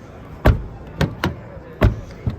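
Car doors of a 2022 Hyundai Bayon hybrid opening and closing, several close, solid thumps and latch clicks spaced unevenly, with quieter handling noise between them.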